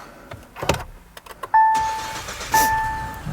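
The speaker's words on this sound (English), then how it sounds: "I guess we have to turn on the engine, otherwise I won't be able to show you" A 2018 SsangYong Rexton Sapphire with a 2.2-litre turbo diesel is started from inside the cabin, with a few clicks and a whirr before it, then two abrupt loud surges with a tonal chime, close and clear.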